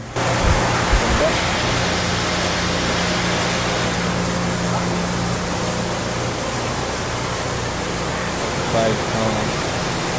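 A Shin Nong rice mill machine runs with a steady broadband roar and a faint low hum underneath, loud and continuous throughout, while people talk in the background.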